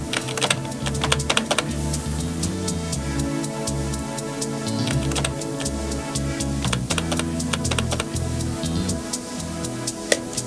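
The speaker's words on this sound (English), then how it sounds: "So first we'll type in the name and the fax number." Rapid, steady typing on a computer keyboard, dense clicking keystrokes close up throughout, with a faint background hum and no speech.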